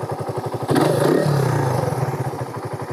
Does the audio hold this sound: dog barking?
no